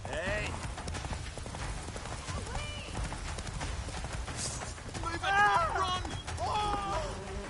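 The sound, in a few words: horse Roach galloping in Witcher 3 video game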